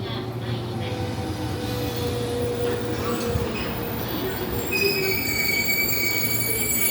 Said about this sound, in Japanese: 中央本線の塩津という駅で特急列車の通過待ちをしてます